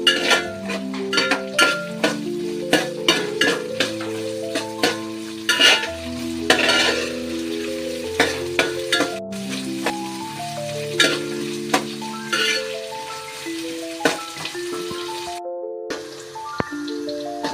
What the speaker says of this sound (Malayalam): ഇനി നമുക്ക് എണ്ണയിൽ ഇത് വറുക്കണം.